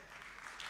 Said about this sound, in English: Han arrancado el aplauso a la gente.